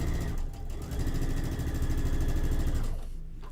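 Sewing machine stitching quilt pieces together, a steady motorized whir with a fast rhythmic needle pulse that runs for a few seconds, then winds down.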